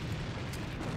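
A grenade explosion in the online shooter AVA, a loud, dense rumbling blast that fills the whole short moment without pause.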